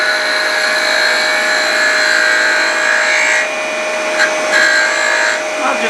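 Wood lathe spinning as a gouge cuts into a turning dowel, a steady loud whining hum with a scraping cutting noise that eases briefly and returns, with faint brief clicks.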